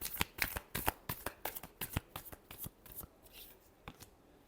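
Tarot cards being shuffled by hand in a rapid series of crisp riffling snaps, close and fairly quiet, with no talking.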